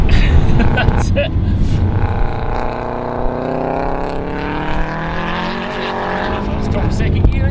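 Subaru WRX on an autotest circuit in Ayrshire, its engine revving hard and loud as it accelerates out of a first-gear hairpin, with rising pitch sweeps through gear changes and steady road noise throughout.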